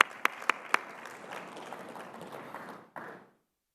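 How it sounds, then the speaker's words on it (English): Applause from the audience at a cricket player auction for the Tamil Nadu Premier League, a few sharp taps up front and then a steady wash of clapping that breaks off near the end. "Round of applause."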